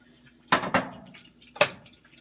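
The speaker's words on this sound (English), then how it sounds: "I'm going to take all the wet ingredients and put it in the big bowl" A few quick clinks and clatters of kitchen utensils against a bowl, two close together and then one more, as milk, cream and egg are handled and mixed for orange French toast.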